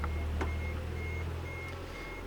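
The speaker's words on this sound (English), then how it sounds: "Truck's coming." A truck idles with a low rumble nearby while its reversing alarm beeps at a steady pace, four or five evenly spaced tones over the engine.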